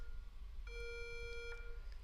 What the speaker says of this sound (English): It's like a fire alarm